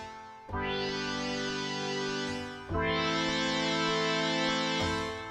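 A warm, buzzy analog-modeled synthesizer plugin emulating 26 vacuum tubes plays long sustained chords, each swelling in and holding, with a brief shift between two chords and no talking.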